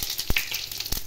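Dried red chillies and white cumin sizzle in hot oil with a continuous bright crackling hiss, broken by a few sharp pops close by.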